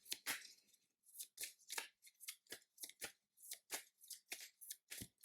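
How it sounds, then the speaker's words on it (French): A deck of game cards is shuffled by hand at close range, a quiet run of repeated crisp riffling bursts in an uneven rhythm. "Et on brasse tout ça."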